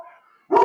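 A dog named Moose barks loudly once near the end, a sudden close bark outdoors in windy desert conditions, after a faint steady tone.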